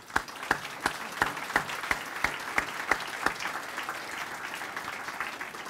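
An audience at a university address claps in a soft, even patter with a few louder individual claps standing out, spread across a moderately sized room.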